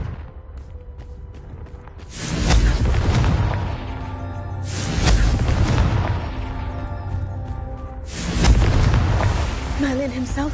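Three booming blasts from the Confringo explosion spell in a Hogwarts wizarding game, each a loud burst with a rolling rumble that fades before the next, spaced about three seconds apart, over a continuous background score.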